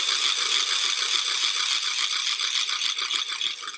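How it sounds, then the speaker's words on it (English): A big Purim grogger, the Rashan noisemaker, whirls in a dense, continuous ratcheting clatter for nearly four seconds, loud and close, with no talking over it. "So this is my extra happy Rashan,"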